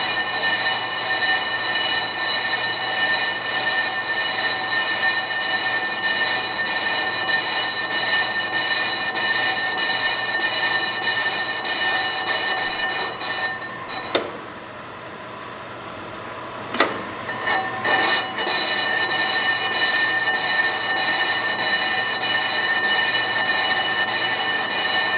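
A brake lathe cuts a rear brake rotor from a 2011 Buick Enclave, a loud steady metallic whine with sustained tonal ringing, briefly dropping away mid-pass before resuming at full level.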